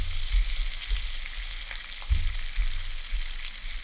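Crispy potatoes stirred with fresh parsley in a hot pan, a close steady frying hiss broken by soft scraping and a few low knocks as the spoon turns them.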